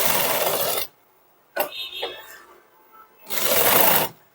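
An electric sewing machine stitching a neck piping strip onto a garment, running in two steady whirring bursts of under a second each, with a brief pause between them filled by soft fabric handling.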